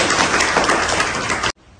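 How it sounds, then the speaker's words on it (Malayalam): An audience at a school batch reunion claps to welcome guests, giving a brief, loud burst of applause that cuts off sharply after about a second and a half. "നമുക്ക് നിറഞ്ഞ കൈയടികളോടെ സ്വാഗതം ചെയ്യും"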